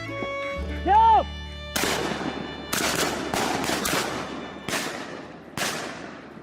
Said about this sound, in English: they will open fire to take down this wild bird.